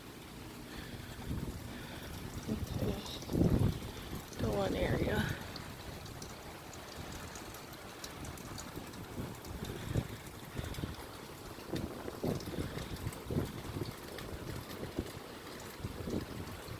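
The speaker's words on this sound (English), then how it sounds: "Still really windy." Strong hurricane wind gusting outdoors, roaring steadily with bursts of buffeting against the microphone, while a person speaks briefly over it.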